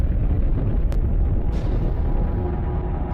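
A gamma-ray burst is rendered as a deep, sustained explosive rumble, loud and continuous, with a couple of faint sharp crackles layered over the roar.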